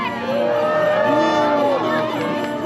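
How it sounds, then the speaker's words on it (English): Crowd cheering at the Holiday Harbour lighting ceremony at Legoland Windsor Resort, a loud sustained mass of voices and whoops, with shouting children and amplified sound running through it. "the mayor greets all the citizens with a big wave, and the crowd cheers with glee"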